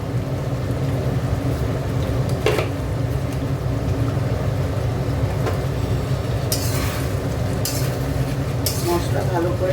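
Potatoes and spices frying in a pan for a Bengali dish, a steady dense sizzle throughout with occasional scraping and clinks of a utensil.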